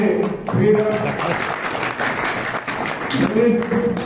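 An audience at a Jangid Brahmin community welcome ceremony claps to greet guests, with sustained applause under someone speaking over a microphone.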